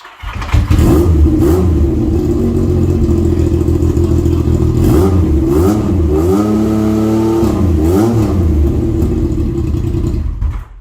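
A motorcycle engine fires up and idles loudly close by, then revs up and down several times in strong bursts.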